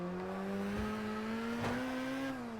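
A Lotus driving in the video game Test Drive Unlimited Platinum, a steady engine drone that rises gradually in pitch as it accelerates, with a brief whoosh midway, continuous and close with no talking.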